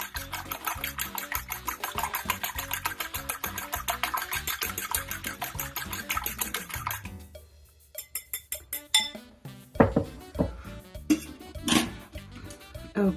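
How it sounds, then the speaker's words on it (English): Eggs and milk whisked in a bowl for chicken milanesa, a fast steady clinking rhythm of whisk on the bowl for several seconds, then slower scattered taps and clinks. "So just mix up your eggs and your milk."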